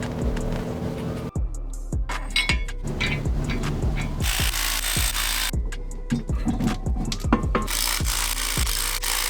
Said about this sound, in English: I'm gonna put the spacers on here, bolt them up